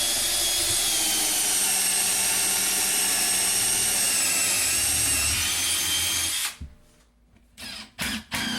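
A power drill drives a lag bolt into a wooden stud for a shop lumber rack, a loud, steady whining motor held for over six seconds before cutting out, followed by a few short bursts.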